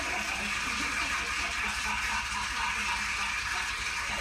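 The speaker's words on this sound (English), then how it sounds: "It's the sound of the Hoover." A Hoover vacuum cleaner drones steadily with a broad, even whooshing roar and a low motor hum, unbroken throughout and moderately faint, with no voices over it.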